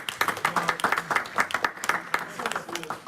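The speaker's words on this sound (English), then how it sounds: "A round of applause." A round of applause from a small group, with many quick, uneven claps packed close together that last the whole time and never fade out.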